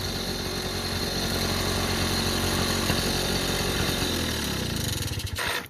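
A 1978 Honda Express moped engine runs steadily at close range with a continuous buzzing drone, then cuts off abruptly just before the end.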